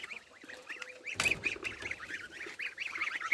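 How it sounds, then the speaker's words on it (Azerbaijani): Two ducks, one white and one black, give repeated nasal quacking calls in a steady run, with a brief louder rustle or clatter partway through. "Onlar ördəkdir dostlar."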